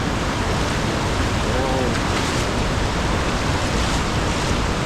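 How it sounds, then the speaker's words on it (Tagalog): Strong rushing water roars steadily in a cave, a dense, continuous wash of noise with no pauses. "Umaagos yung tubig, medyo malakas"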